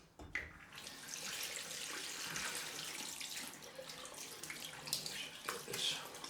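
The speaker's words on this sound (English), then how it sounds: "Cold rinse time." Cold tap water runs steadily into a bathroom sink for a face rinse after a straight-razor shave, a soft continuous hiss and splash that starts after a brief pause and stays fairly quiet throughout.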